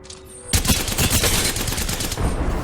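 A loud burst of gunfire in the video game Apex Legends, starting suddenly after a brief lull and continuing as a dense rattle of shots to the end, no talking.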